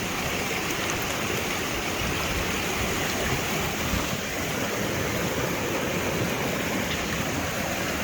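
Clear, ice-cold mountain spring water rushes steadily from start to finish in a dense, even wash of broadband splashing, fairly loud and close, with no voices.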